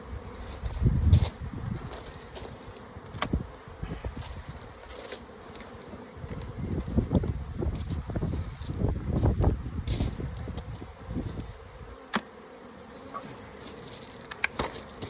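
Honeybees hum steadily around an opened hive during an inspection, with a wasp nearby. The buzzing rises and falls close to the microphone, broken by sharp handling clicks and knocks.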